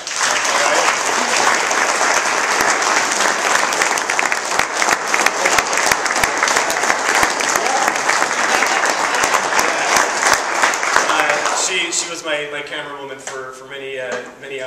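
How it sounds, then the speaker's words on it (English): Sustained applause from a gathered audience at a client of the year award event, honoring a camera operator, dense and loud for most of the stretch before tapering off as a voice begins talking near the end. "giving a round of applause to Twyla Martin"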